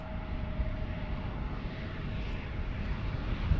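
A KLM passenger jet at Amsterdam Schiphol starts its takeoff roll on runway 36L, heard from a distance as a steady, fairly faint engine roar and rumble that holds level throughout.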